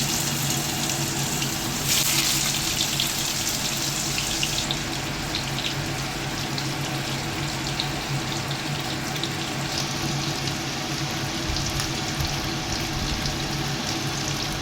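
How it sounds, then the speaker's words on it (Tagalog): Salmon pan-searing in oil and butter over high heat, a loud continuous hiss and crackle of sizzling fat holding steady throughout, close and alone. "So i-prito natin to guys in high heat."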